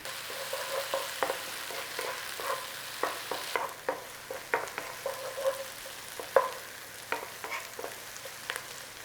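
Onions fry and soften in a pan for a Mughlai chicken handi, a quiet continuous sizzle broken by repeated clinks and scrapes of a utensil stirring, no talking.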